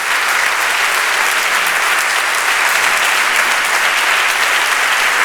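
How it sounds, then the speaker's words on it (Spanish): Sustained, loud applause from a conference audience honoring a journalist at an award ceremony, steady dense clapping throughout with no speech. "Lo único que pido de verdad es una ovación sincera y entregada a Luis María Ansón."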